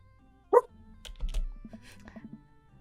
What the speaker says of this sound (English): I help Brian place a tiny, dog-sized life vest on Maxwell